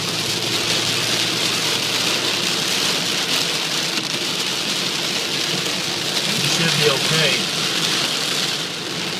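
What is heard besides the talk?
heavy rain storm while driving on highway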